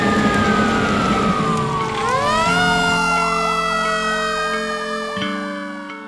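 An ambulance siren wails loudly, sweeping up and down and then switching to a fast yelping pattern, close by and steady throughout.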